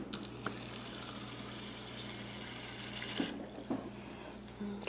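Tap water running steadily into a baby bottle with a liner inside, a quiet continuous flow with a few small clinks and knocks near the end.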